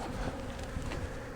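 Honey bees buzz around a nuc hive box while a beekeeper splits the colony, a dense, continuous droning hum up close with no voices.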